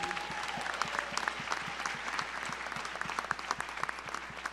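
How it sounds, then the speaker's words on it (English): Steady audience applause at a community town hall, a dense patter of clapping hands sustained throughout at moderate loudness with a few sharper claps standing out. "Give her a round of applause"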